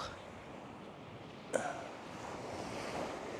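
Surf on a quiet, deserted beach in La Union, a steady close wash of waves with wind rumble and a single brief knock partway through.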